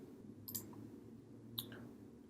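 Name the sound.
computer mouse click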